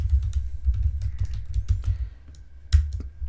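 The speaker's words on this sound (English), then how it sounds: "Now again let me type." Rapid, uneven keystrokes on a computer keyboard while typing into a Notepad document, crisp clicks in close succession for a few seconds, with one louder key strike near the end and no talking.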